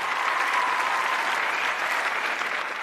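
Dense, even applause from an MMA event crowd, sustained and fairly close for the whole moment, without a break or any words.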